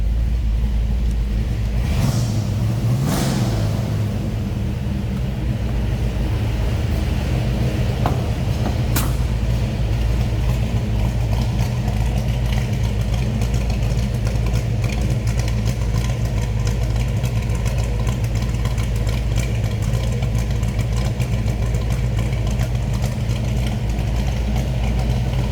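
A 1969 Ford Mustang Fastback V8 with a Holley 4-barrel carburetor idles steadily and close by, a deep continuous rumble throughout with no talk.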